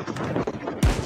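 A sniper rifle fires once in a video game, a sharp loud report with a low boom, heard after a stretch of busy game sound.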